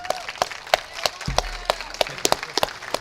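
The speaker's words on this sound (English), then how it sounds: "give them a round of applause, please" Sparse, scattered handclaps from a small audience at a 2014 neighborhoods conference, roughly a few claps per second, fairly close, with a low hum underneath partway through.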